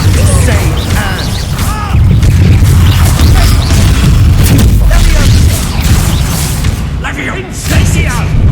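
Confringo fire-spell explosions in the Hogwarts Legacy video game, a dense run of loud booming blasts and crackling bursts through a busy fight, with a voice calling out over them.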